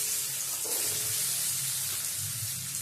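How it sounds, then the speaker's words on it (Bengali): Potato pieces tossed into hot oil seasoned with black cumin for a Bengali chorchori give a steady, close broadband sizzle and hiss that holds evenly for a few seconds, with no voices. "এর মধ্যে দিয়ে দেবো প্রথমে টুকরো করে কেটে রাখা আলুটা"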